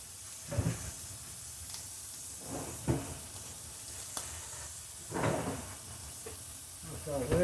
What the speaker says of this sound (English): let me just fry a little bit of ham